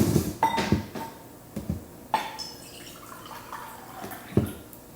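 Filtered water pours into a blender for a smoothie, with splashes and drips coming in uneven bursts, fairly close and without talk.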